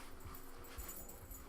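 A dog whimpers softly in a room in the horror game Layers of Fear, faint low whines under a steady background hum.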